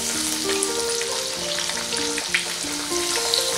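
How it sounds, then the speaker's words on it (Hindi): Fish fillets frying in a hot pan give a steady, close sizzle throughout, with occasional soft pops and clinks over a continuous crackling hiss; a faint tonal hum sits underneath, and no one speaks. "फिश को दोनों तरफ से गोल्डन ब्राउन होने तक फ्राई कर लेंगे।"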